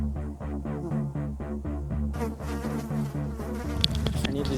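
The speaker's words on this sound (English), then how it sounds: "I need this bee to disappear." Close, steady buzzing of a bee or wasp hovering near a nest, droning continuously with a pulsing rhythm and growing rougher and louder partway through.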